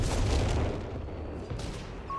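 Artillery fire in the Company of Heroes 3 strategy game, a dense rumbling barrage of booms and blasts that fades slightly over two seconds, with no voice over it.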